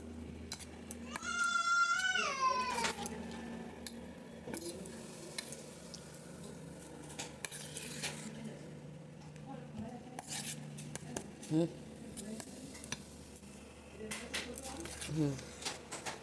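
An egg mixture is whisked in a bowl with quick, clinking scrapes of a utensil against the sides, intermittent and close, while a person talks over it and a brief high wail rises early on.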